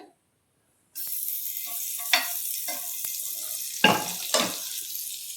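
Butter sizzles steadily in a hot pan while onion fries for a sandwich, starting abruptly after a brief quiet moment, with a few louder crackling bursts along the way.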